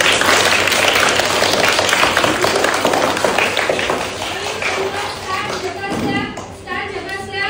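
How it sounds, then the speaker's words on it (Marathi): Audience applause at a community event where a social organisation hands out school supplies, a dense, loud crowd clapping that fills the first half and then thins and softens, with some voices mixed in. "एकदा या सर्वांकडे आपण जोरदार टाळ्यांचा प्रतिसादानं स्वागत करूया"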